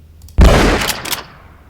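Shotgun blast followed by pump-action and shell sound effects in the Cube game: one loud, close, booming shot with a broad decaying tail, then two quick sharp mechanical clacks as the pump works, no voices.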